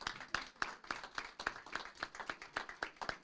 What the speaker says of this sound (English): If we could give them a big round of applause once again.